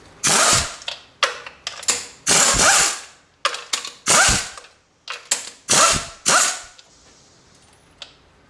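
A ratchet works spark plugs loose from a Honda Accord engine in a series of loud, close, rapid clicking bursts separated by short pauses, fading to near silence at the end.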